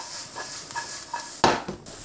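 Floured onions tossed in a hot frying pan, a soft sizzle beneath scraping and clinking of pan and utensil, with a sharper rattling toss near the end.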